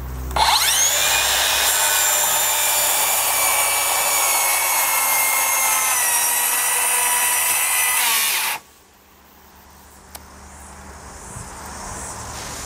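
A loud saw cuts through wood along a Skateplate guide, a sustained close whining, rasping cut for about eight seconds that stops abruptly, leaving quiet room tone with a faint click.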